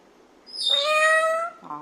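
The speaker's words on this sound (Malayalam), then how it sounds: "പൂച്ച അവിടെ ഉണ്ട്" A single clear cat meow, drawn out and rising then falling, close to the listener, followed by a brief low murmur at the end.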